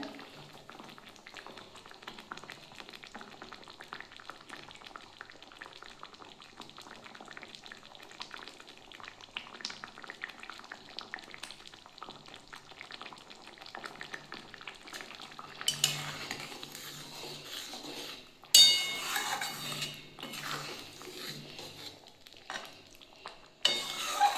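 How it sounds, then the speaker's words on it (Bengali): A pot of sour radish curry simmers and bubbles steadily on the stove, with soft stirring and utensil clinks, growing louder and busier toward the end. "এটা আমার টকবক করে ফুটছে"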